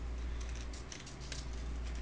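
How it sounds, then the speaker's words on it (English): Scissors cut lengthwise down the center of a paper strip, close and quiet, with soft repeated snipping and crisp rustles over a low background hum. "you take your scissors and you just follow the line right down the center"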